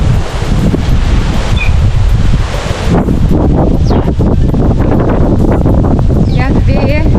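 Strong wind on the path to a wild beach in Puerto Rico buffets the microphone in loud, roaring gusts with rustling, and a person talks over it in the second half.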